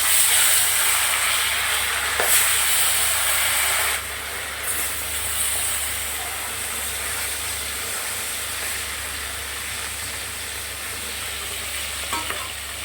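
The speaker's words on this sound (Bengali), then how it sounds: "চলো ভেজে নেবো এবারে।" Rupchand fish rubbed with salt and turmeric frying in hot oil in a pan, a continuous loud sizzle and hiss with a brief stir early on, then a steady crackle that eases slightly and carries on alone.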